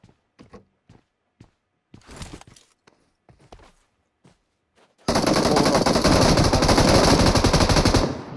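In the PUBG Mobile video game, scattered footsteps and thuds give way to a sustained, loud burst of rapid automatic gunfire lasting about three seconds, close and continuous.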